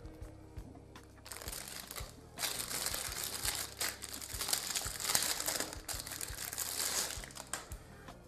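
Crinkling plastic packaging bag being handled while unpacking a Miller ML-102 charger, a close, continuous rustle and crunch with sharp crackles that builds after a quiet start and keeps going to the end.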